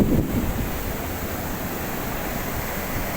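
Steady ocean surf and wind at Cemara Sewu beach in Tulungagung, East Java, a continuous broadband wash of breaking waves with wind buffeting the microphone throughout, no voices.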